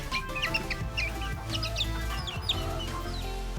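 Chicks clucking and cheeping while pecking at breeder pellet feed, a busy overlapping chorus of soft clucks and high chirps close by, with no talking.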